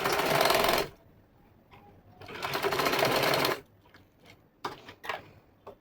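Sewing machine stitching a pant in two loud, steady bursts, the first about a second and the second about a second and a half, separated by quiet gaps with light handling clicks and knocks.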